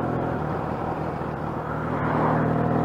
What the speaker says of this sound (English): With these loud, noisy pipes on it.